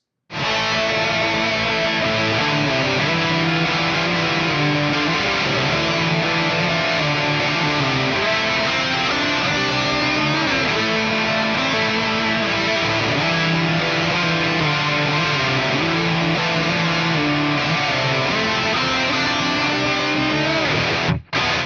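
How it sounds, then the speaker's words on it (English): A distorted electric guitar solo from a song plays over a full band backing, sustained and steady at high volume throughout, with busy melodic runs across the whole stretch. "Now we've got the first of 2 solo sections that sounds like this."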